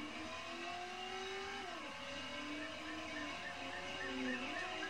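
Car engine in the Driver video game revving and rising through gears as it drives, with steady engine tones sliding up and down continuously, loud and close throughout.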